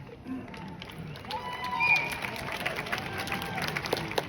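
Scattered, light clapping from a small crowd at a casino concert, faint and a little distant, with some murmuring voices mixed in.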